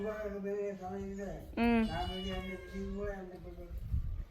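A frightened kitten meows in drawn-out, wavering cries, one rising sharply in pitch, close by, with a person's voice over it.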